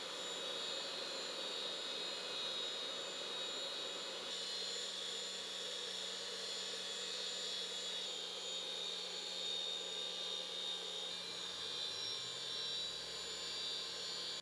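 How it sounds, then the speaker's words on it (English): A grinding wheel grinds a shank held on a lathe. It makes a faint, steady high whine with a constant hum under it that runs for the whole stretch without a break. "it seems like we're getting a nice consistent grind."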